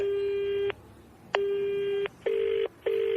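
Telephone tones from a mobile call: a long steady ringback tone, a short click, then another long tone followed by two shorter beeping bursts, clear and fairly quiet with no voices.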